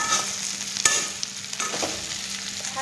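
Spicy chicken curry sizzles in a pan while a spoon stirs it, soft scraping strokes and a few sharp clinks against the metal over a steady quiet frying hiss, no voices.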